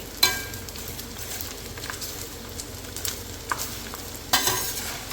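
Edible gum (gond) deep frying in hot oil for roasted chana panjiri, a steady bubbling sizzle nearby, punctuated by a few sharper knocks and scrapes of a spoon in the pan.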